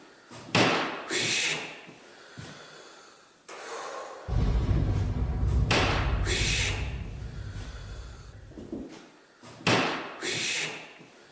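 Heavy door thudding and banging inside an old dockyard building, several loud knocks and a longer rumbling stretch in the middle, with quiet gaps between.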